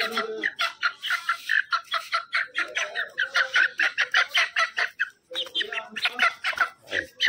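Chicks cheep in rapid, high-pitched bursts close by, with a hen clucking at moments and someone talking over them.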